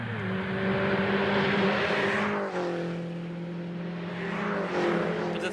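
A MINI Challenge race car is driven hard around the Sandown circuit. Its engine drones steadily and close by, with the pitch dipping and climbing as the driver shifts and brakes, then accelerates again toward the end.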